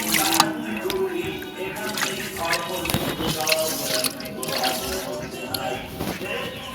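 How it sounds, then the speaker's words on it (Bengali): A wok is washed under running water, with splashing, dripping and trickling close by and small clanks of the pan, while a person talks over the sound. "এখন কড়াইটা ধুয়ে নেব"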